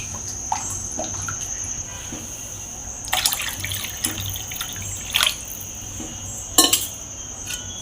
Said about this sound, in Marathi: यामध्ये 2 तांबे आपण पाणी घालून घेणार आहोत।